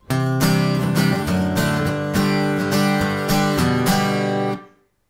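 Acoustic guitar strumming a pre-chorus chord pattern, with steady rhythmic strokes ringing loud and close, then stopping cleanly with a short decay.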